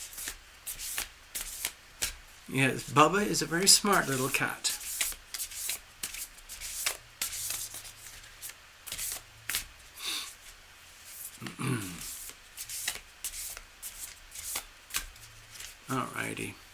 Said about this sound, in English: Shuffle up a tiny bit.